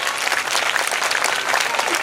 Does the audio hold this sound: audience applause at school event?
yes